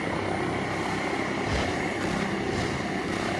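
A helicopter in a zombie battle video game set on an aircraft carrier drones with a steady whirring rotor and engine noise, continuous and fairly faint throughout with no speech.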